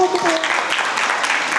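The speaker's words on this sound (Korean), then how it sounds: "박수 한번 쳐주세요" An audience claps for a presenter taking the stage at a live talk event, a steady wash of applause that runs the whole time, with a voice over it near the start.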